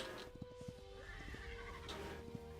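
A horse in the video game Hytale gives a whinnying neigh, close and moderately loud, heard twice over a soft game backdrop with faint hoof clops.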